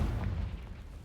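Fiery spell blast in the Hogwarts Legacy game, a short low booming explosion that rolls and fades quickly, fairly faint overall.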